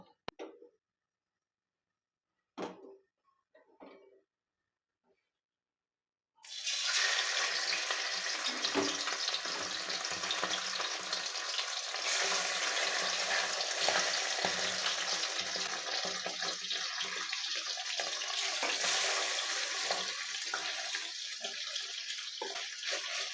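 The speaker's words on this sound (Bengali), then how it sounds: "তেলটা গরম হলে মাছগুলো আমি ভেজে নেবো" Bata fish frying in hot oil in a wok on a gas stove, for a mustard-paste fish dish: a few faint clicks and taps at first, then a sudden loud, steady sizzle that carries on, close by.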